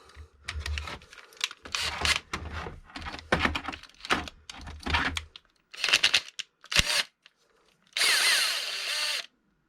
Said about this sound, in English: So I think I'm going to need good old impact driver on it.